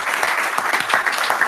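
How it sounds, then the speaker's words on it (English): An audience at a web performance meetup talk applauds: dense, continuous clapping from many hands, fairly loud and even throughout. "So a nice round of applause for Rob."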